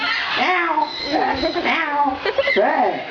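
A child gives a string of high, wavering meows, several drawn-out cat calls in a row, imitating a cat with her voice.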